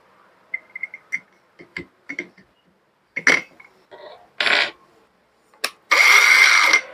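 A cordless 5-inch battery circular saw spins up near the end as a loud, steady whirring burst lasting about a second, preceded by scattered clicks and handling knocks.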